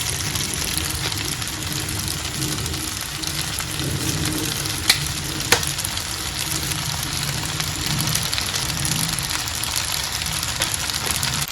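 Spaghetti stir-fried with vegetables, sausage and chili flakes sizzles steadily in a hot pan, a dense continuous frying hiss with a couple of sharp clinks from stirring, no talking.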